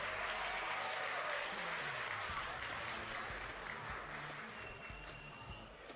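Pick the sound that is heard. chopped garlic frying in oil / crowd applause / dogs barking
crowd applause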